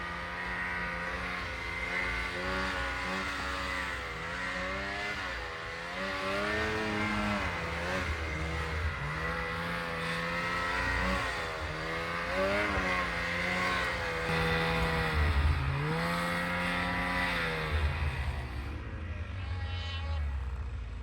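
A big, powerful snowmobile engine revs and surges while riding, the throttle rising and easing in repeated waves over a steady mechanical drone, loud and continuous throughout.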